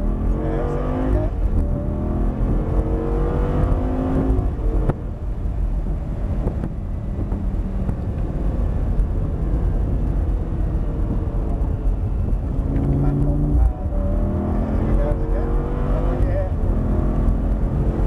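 Audi R8 V10 driven on a race track, a loud steady engine drone that rises and falls with gear changes and throttle, heard from inside the car under ongoing talk.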